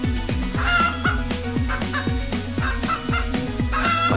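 Chicken in a jail-themed Play-Doh setting, clucking in quick repeated bursts at a steady, busy rhythm, loud and close with no talking.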